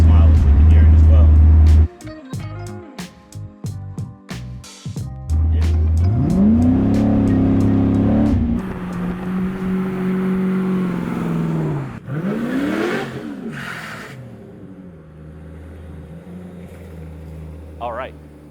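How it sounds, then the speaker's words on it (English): A Mercedes swapped to an LS3 6.2L V8 cruises in third gear at about 1500 RPM, giving a low, smooth engine drone with brief revs and pitch swells, heard close under someone talking. "Cruising in 3rd gear, 1500 RPMs."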